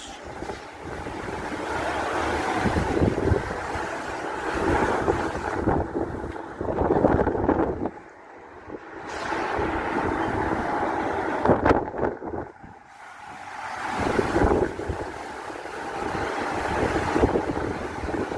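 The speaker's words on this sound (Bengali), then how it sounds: "অনেক বাতাস।" Strong wind at sea beside a boat, roaring and buffeting the microphone in loud surges that drop away briefly before rising again, with water wash underneath and no voices.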